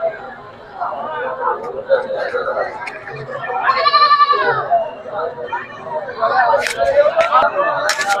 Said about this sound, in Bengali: ভাই, ছাগলটা আপনার?